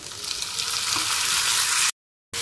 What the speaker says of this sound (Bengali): এবারে এটা বেশ করে ভাজা ভাজা করবো।